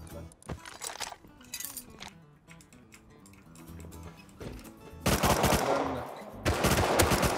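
Gunfire in the survival game Rust: a few sharp isolated shots early on, then two loud dense bursts of automatic fire near the end, fairly close, with faint voices in the background.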